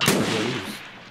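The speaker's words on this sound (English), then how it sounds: "Same dude just shot me again" A single sharp gunshot cracks out in the shooter game Escape from Tarkov, loud and close, with a short rumbling tail fading within about a second.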